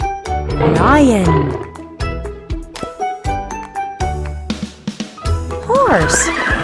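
A horse neighs twice, a long wavering whinny at the start and another near the end, over bouncy background music with jingling accents.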